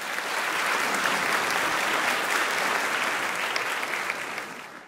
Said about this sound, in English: let's have a round of applause for this incredibly deserving Limburg leader